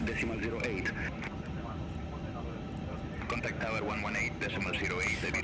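Airbus A350 jet engines spooling up in Microsoft Flight Simulator 2024, a steady broad roar with rising whine on the ground before departure from Madrid, continuous throughout with someone talking over it.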